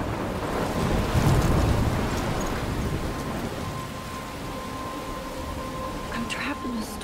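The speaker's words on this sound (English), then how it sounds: "I'm trapped in a storm?" A storm from the video game Life is Strange, with steady heavy rain and rushing wind near the lighthouse, a continuous dense roar that swells early on, with faint tonal game sounds layered on top.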